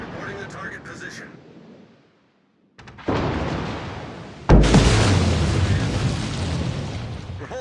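Naval guns firing at a target in a video game: a brief silence, then loud booming blasts and rumbling explosions that sustain, with radio-style voice chatter over them.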